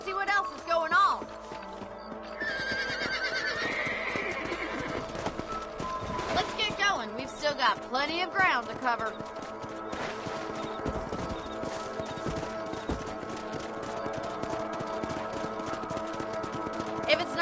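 Horse hooves clip-clop steadily in Red Dead Redemption as riders move out at a walk, rhythmic and close, mixed with a short whinny and a voice speaking over the game's music.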